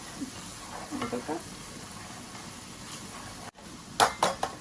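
Spices frying in a pan for a Bengali lamb curry, a soft continuous sizzle with light scraping stirs and a few sharper clinks of utensil against the pan.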